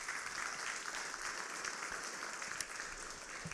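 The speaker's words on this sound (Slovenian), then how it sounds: "Še en aplavz" Audience at a Slovenian political event for the European elections applauds in a steady, moderately distant wash of clapping with no pauses.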